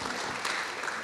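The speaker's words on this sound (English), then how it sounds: "Can we have a round of applause for that?" An audience at a panel discussion applauds, a short dense burst of clapping from many hands, close and continuous throughout.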